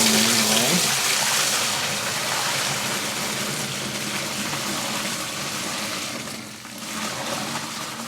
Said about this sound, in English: I'm going to add the hot water. I'm going to strain it